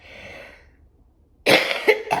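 A single harsh cough bursts out up close after a soft breathy exhale and a moment of quiet, ending with a rough throaty rasp.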